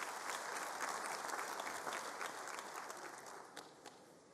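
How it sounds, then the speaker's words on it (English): Audience in a hall applauding a program director at the Department of Basic Education's 2022 matric results announcement, fairly distant, steady clapping that thins and fades toward the end. "Give her a big hand of applause"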